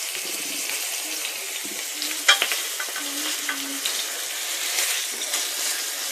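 Aubergines fried in oil in a pan while being stirred, giving a steady, fairly quiet sizzle with a brief clatter of the spoon partway through and some faint watery gurgling.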